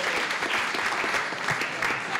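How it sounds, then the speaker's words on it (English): Steady applause from a town hall meeting audience, sustained clapping filling the room at moderate loudness with no talk over it. "I want everybody to clap that up, because that's incredible."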